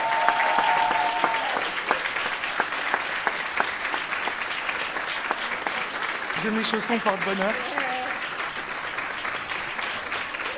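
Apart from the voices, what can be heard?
audience applause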